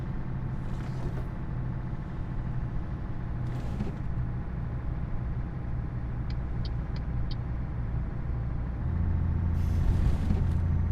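Truck engine and cab rumble in Euro Truck Simulator 2 as the truck drives over bumps, a steady low drone with a few brief hissing bursts and light rattles, growing slightly louder near the end.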